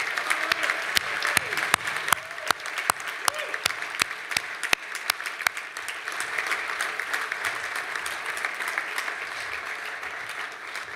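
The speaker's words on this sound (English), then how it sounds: "let's give them a nice round of applause" A benefit dinner audience gives a sustained round of applause, dense clapping that carries evenly for several seconds and then thins slightly toward the end, with a few sharp individual claps standing out.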